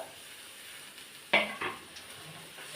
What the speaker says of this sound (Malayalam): ചെറുതൊന്ന് ഇളക്കി വെക്കട്ടെ ഞാൻ